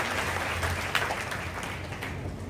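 An audience claps to welcome a speaker back onto the stage at a guidance camp, a dense steady wash of applause holding throughout at close, even loudness.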